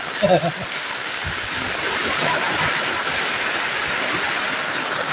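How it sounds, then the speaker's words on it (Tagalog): Heavy rain pours down steadily outdoors, a dense continuous hiss with a few brief louder knocks near the start and no talking. "bumiglang bumuhos yung malakas na ulan"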